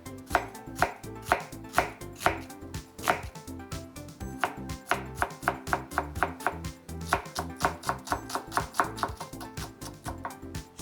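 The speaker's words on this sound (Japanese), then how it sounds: "で続いて玉ねぎはみじん切りですね。" An onion is minced with a kitchen knife on a cutting board, rapid crisp chops in steady runs and pauses, close and clear with no talking, while clam chowder is being made.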